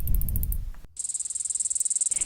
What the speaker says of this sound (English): you may have heard many loud male cicadas trying to attract a mate using the sound they produce with their wings